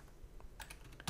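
A short burst of keystrokes on a computer keyboard as a Linux terminal command is typed. About half a dozen crisp clicks sound close up in an uneven rhythm, ending in a firmer tap, with no talking.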